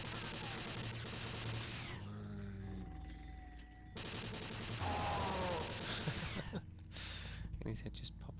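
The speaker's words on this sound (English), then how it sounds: "here's the futuristic type weapon. The old electroplasma gunero." Electroplasma gun shots in the 1997 video game Blood, with bursts of buzzing, crackling energy fire separated by brief quieter stretches of game sound. A voice talks through part of it.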